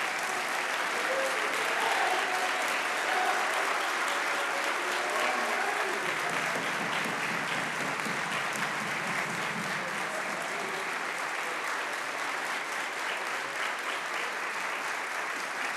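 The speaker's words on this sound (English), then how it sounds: "Let's keep applauding." A chapel audience at Wabash applauds after student talks, sustained thick clapping filling the room for the whole stretch, loud and even with a faint murmur underneath.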